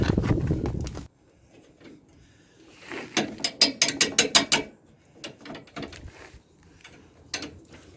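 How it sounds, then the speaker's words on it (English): Screwdriver driving a screw into a boat's new deck, with a burst of rapid ratcheting clicks in the middle followed by scattered scraping and clicking, after a brief loud rumble at the start. "Need to get a screwdriver."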